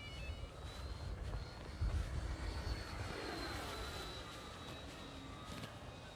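A radio-controlled Dynam Focke Wulf Fw 190 model plane flies at about 60% throttle, its propeller engine giving a steady, fairly distant drone that swells slightly midway and fades without any talk.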